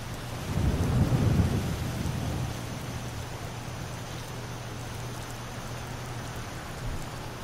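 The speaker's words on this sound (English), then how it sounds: "Wish it would stop raining." Steady rain pours down in Skyrim while a low rumble of thunder rolls early on, then fades into continuous downpour; no one speaks.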